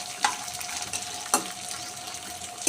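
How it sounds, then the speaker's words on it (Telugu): Ingredients for peanut chutney fry in oil in a pan with a close, even sizzle, punctuated by three sharp scraping stirs of a spoon against the pan. "ఇది ఫ్రై అవనిద్దాం."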